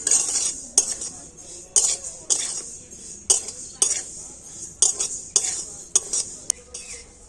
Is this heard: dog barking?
no